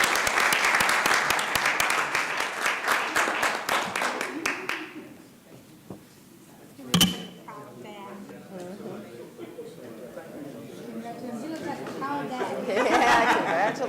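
Applause from a city council audience, dense clapping that tapers off after a few seconds, followed by chatter and mingled voices, with clapping picking up again near the end.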